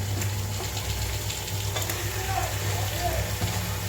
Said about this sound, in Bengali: ভালো করে চিকেনটাকে কষাবো